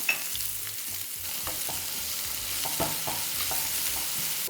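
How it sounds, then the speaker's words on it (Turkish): Onions sauté in an oiled pan, a soft steady sizzle with light stirring scrapes, fairly close and without voices. "Hemen soğanlarımı da koyuyorum. Şöyle bir çevireceğim."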